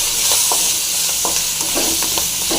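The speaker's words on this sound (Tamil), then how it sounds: "கொத்தமல்லி கருவேப்பிலை ஒரு நெல்லிக்காய் போட்டுடலாம் போட்டு நல்லா ஃப்ரை பண்ணிடலாம்" Coriander, curry leaves and gooseberry fry in a pan, a loud, close, continuous sizzle with short stirring scrapes breaking through it.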